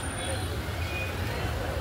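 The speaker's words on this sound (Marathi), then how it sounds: "आवाज येतो गाड्यांचा सगळा." Road traffic on a busy Sunday street by a shop area makes a low, steady engine rumble with a faint hiss of passing vehicles, while a person talks over it.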